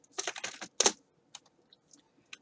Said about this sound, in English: if you press F5 on your keyboard